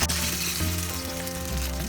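Eggplant slices for bagara baingan sizzle steadily in hot oil in a pan, a close, continuous frying hiss with a low hum underneath and no voices.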